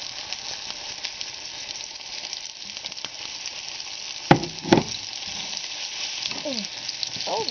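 Onions fry in a pan with freshly added olive oil, giving a steady close sizzle throughout, broken by a couple of brief utensil clinks and some scraping near the end.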